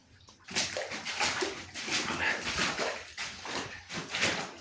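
Water is poured onto a burned house after a fire in Santa María, sloshing and splashing in uneven surges that start abruptly and carry on at a steady level.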